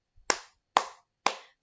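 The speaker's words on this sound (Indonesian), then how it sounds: "kita tepuk semangat dulu biar kita semangat" Rhythmic classroom spirit clap led by a teacher: three sharp, evenly spaced hand claps, close and crisp, each ringing out briefly before the next, with the start of a fourth at the end.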